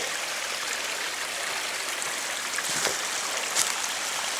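Steady rushing of a waterfall pouring from a rock face into a stream, a continuous broadband wash of flowing water with a few brief splashy accents, fairly close and with no talking.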